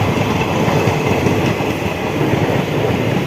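A crowded Lalgola local train runs with a steady loud rumble and faint rhythmic wheel clatter, heard from inside a carriage with no speech.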